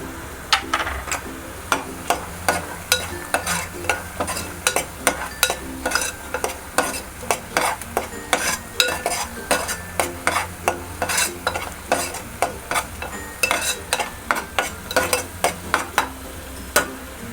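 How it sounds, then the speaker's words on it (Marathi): Green masala paste for a bangda fish curry frying in oil while a spoon stirs it steadily, with rhythmic scraping clacks against the pan over a constant close sizzle and no talking. "मसाला चांगला तेल सुटेपर्यंत भाजून घ्यायचा आहे"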